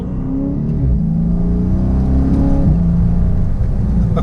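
A 2017 Dodge Charger SRT 392 with a 6.4L V8 accelerates hard, its engine note climbing loud and close in a sustained pull with no talk.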